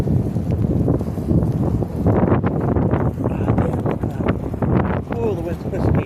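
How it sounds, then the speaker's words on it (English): Strong, gusty wind buffets the microphone in a blustery rumble that runs the whole time, with a person talking over it. "Oh, the wind's pushing me. Wow, crazy weather."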